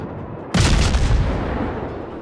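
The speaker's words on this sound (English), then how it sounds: "So I just continue to fire my guns at him" Warship main guns fire in the naval battle game World of Warships, a sudden loud booming salvo that hits abruptly and then rolls into a long, fading rumble.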